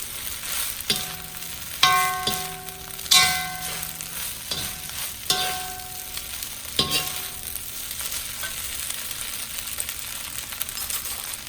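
Garlic frying in a pan for Thai crab fried rice, a steady close sizzle broken by several clanging stirs of the utensil against the pan at irregular intervals.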